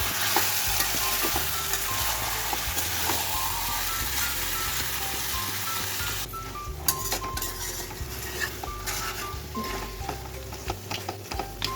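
Tomatoes and a little sugar hit a pan of frying mutton for kosha, a steady close sizzle with repeated stirring scrapes and metal utensil clinks against the pan, and no voices.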